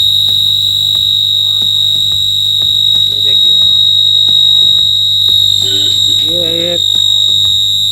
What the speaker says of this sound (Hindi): हाई फ्रीक्वेंसी के एक सिग्नल को हमने एम्पलीफायर में डाला था।